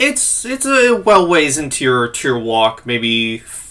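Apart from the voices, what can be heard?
None of the usual background noises is heard.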